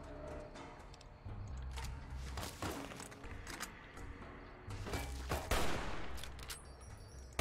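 Varmint rifle fire in Fallout: New Vegas, a series of sharp shots spread across the stretch amid steady game background noise, fairly faint overall, with no talking heard.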